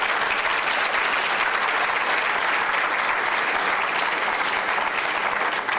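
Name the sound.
audience applause for performers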